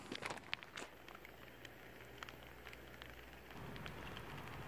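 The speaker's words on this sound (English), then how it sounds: "the rain started, just as predicted" Rain beginning to fall outdoors, a soft, faint patter of drops on surfaces with a few sharper taps early on, then a steady light hiss.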